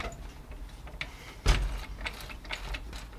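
A ratchet tightening a ball joint nut on a car, giving a few short clicking and clunking strokes, close and moderately loud, with one sharper knock in the middle and no talking.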